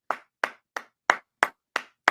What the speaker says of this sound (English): What are you clapping about?